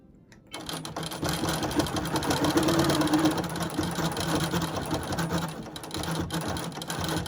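Sewing machine stitching a log cabin quilt, a steady close whirring hum that starts after a half-second pause and runs continuously at even loudness.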